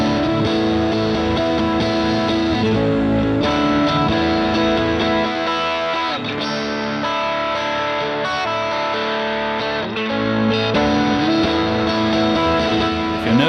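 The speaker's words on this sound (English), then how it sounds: "I'm gonna play you both sides so you can hear the blend of the different guitar tones working together." A distorted electric guitar plays a blues riff in 4/4 time with effects on the tone. The sustained, layered notes run continuously and loud, with no talking.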